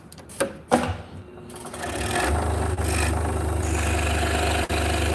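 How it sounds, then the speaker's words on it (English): A scroll saw cuts pieces out in a woodworking shop, starting up about two seconds in and then running as a steady, loud mechanical drone with a rapid reciprocating buzz, after a few sharp knocks at the start. "We are on the scroll saw right now, cutting these out."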